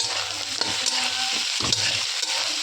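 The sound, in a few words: stirring potatoes with lightly fried onions in a pan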